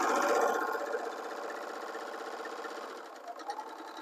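A sewing machine runs steadily while stitching a knit neckband, a dense continuous motor whir that is loudest at the start and then holds level before easing slightly toward the end, with no talking.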